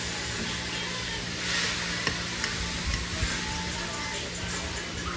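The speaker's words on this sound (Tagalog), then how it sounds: "So, i-mix na lang natin siya." Fruit juice mixture being stirred in a container, a steady soft swishing and sloshing with light scraping, fairly close and continuous, with no talk over it.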